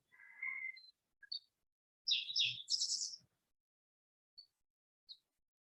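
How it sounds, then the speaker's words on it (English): Birds chirping outdoors, a few short high tweets and brief bursts of song separated by quiet gaps, faint and fairly distant. "There's no jets right now, just some birds."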